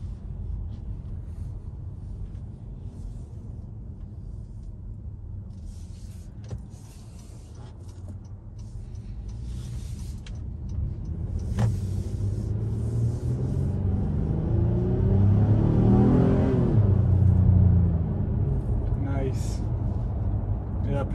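A 2021 Honda Pilot Special Edition AWD SUV pulls out of a parking lot and accelerates, its engine rumble swelling steadily from a low hum to a fuller, louder drone heard from inside the cabin.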